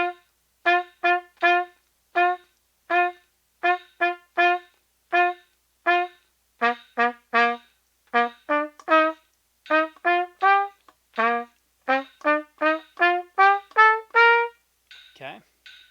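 A trumpet plays a steady series of short notes in pairs of eighth notes, evenly spaced and clear with quiet gaps between them, against a slow metronome beat.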